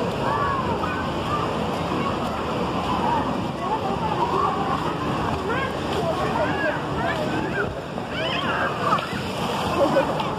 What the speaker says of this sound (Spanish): Donde cae el agua, el tobogán.